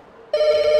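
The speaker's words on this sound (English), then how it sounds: "The bat phone's ringing." A telephone starts ringing in the indie horror video game From The Rain, a sudden steady electronic ring tone that cuts in loud and close.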